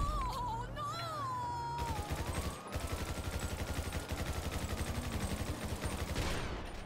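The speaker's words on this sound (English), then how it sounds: "Tried to shoot him with the rifle from far." Rifle gunfire in a video game, a long rapid string of rhythmic automatic shots close and loud, over a pitched whine and game effects, with no talk.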